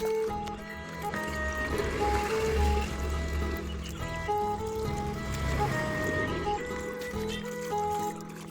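Water flows from a pipe onto a rooftop terrace in a continuous, moderately loud stream, with some swelling and easing, while a faint tonal hum or music lingers underneath.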